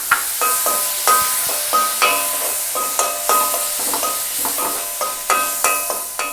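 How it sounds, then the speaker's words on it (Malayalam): Chopped tomato sizzles in a pan of onion masala for potato masala while a spoon scrapes and stirs in a steady rhythm, loud and close. "തക്കാളി അതിലേക്ക് ഇട്ട് കൊടുക്കാം."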